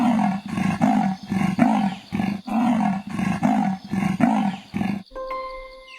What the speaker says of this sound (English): What sound does the leopard make?